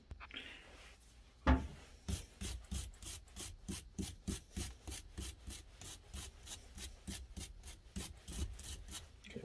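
Rusted screws on a Suzuki TS125 engine case are scrubbed clean by hand, a close, rhythmic rasping with quick regular back-and-forth strokes after a single knock.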